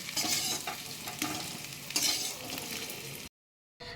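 Whole garam masala, a bay leaf and a dry red chilli crackle in hot oil in a kadai, a bright continuous sizzle with rhythmic stirring scrapes, cutting out abruptly near the end before briefly resuming.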